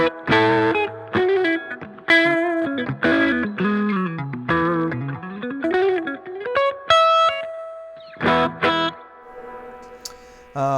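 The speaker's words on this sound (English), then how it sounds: "listen to the amp's built-in reverb from 1968 here" A guitar plays through the built-in spring reverb of a 1968 vintage amp, with distorted chords and sliding notes trailing into a short, dark reverb tail and separated by brief pauses.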